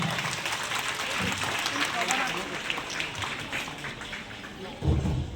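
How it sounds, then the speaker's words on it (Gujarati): Crowd applause at a teachers' retirement farewell ceremony, a dense wash of many hands clapping steadily throughout, with a heavier burst near the end. "બાપુના આ સ્વાગત સન્માનની જોરદાર તાળીઓના ગડગડાટથી વધાવીએ."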